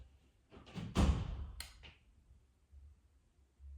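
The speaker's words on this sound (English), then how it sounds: "Is somebody at the door?" A door is knocked or bumped, giving a short cluster of dull thuds and a sharp bang, then a couple of lighter knocks, all moderately loud over a quiet room with no talking.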